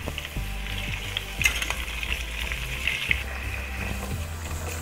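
Chicken pieces for Muradabadi biryani fry in hot oil, a steady close sizzle with a few clunks and scrapes of stirring.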